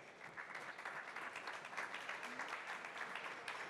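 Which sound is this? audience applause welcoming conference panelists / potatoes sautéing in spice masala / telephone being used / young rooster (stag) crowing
audience applause welcoming conference panelists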